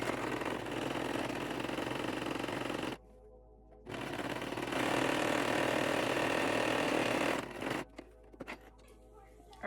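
A sewing machine stitches fabric pieces for a memory bear in close, steady mechanical bursts, pausing briefly and then resuming before stopping with a few clicks.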